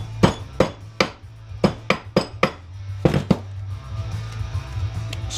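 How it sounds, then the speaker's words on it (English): Hammer blows breaking the plastic housing of a soldering iron, about a dozen sharp close impacts in an irregular series, some in quick pairs, then a quieter scraping stretch at the end. "Break this plastic."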